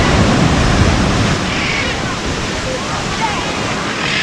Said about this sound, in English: It's a nice sand beach, but got some big California waves.